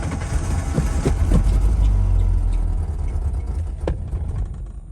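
A turbocharged Ford Ranger on 37-inch tires rumbles close by as it is given gas, its engine swelling briefly before easing back to a rough, steady running sound.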